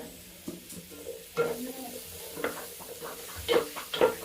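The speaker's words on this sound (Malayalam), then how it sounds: "ഇതൊക്കെ എടുത്തിട്ട് എണ്ണയിലൊന്ന് വഴണ്ട് കിട്ടട്ടെ." Chicken manchurian ingredients sauté in hot oil in a pan, a soft sizzle running under repeated stirring scrapes and a few sharper clinks of the utensil against the pan.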